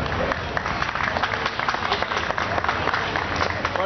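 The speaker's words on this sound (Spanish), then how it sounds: "Fuerte el aplauso para Marisa Vázquez." An audience applauds at a tango festival, with dense, steady clapping throughout that sounds loud and fairly close, filling the room with crowd noise.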